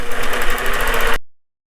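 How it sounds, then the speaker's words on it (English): A longarm quilting machine motor runs while stitching a straight line, giving a loud, rapid, even mechanical rattle close by for just over a second before it cuts off abruptly into silence. "I'm going to hit green to engage the motor, and I'm going to stitch a straight line all the way across."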